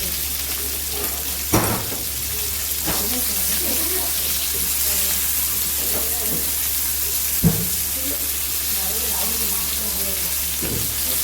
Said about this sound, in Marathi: इकडे मच्छी फ्राय होते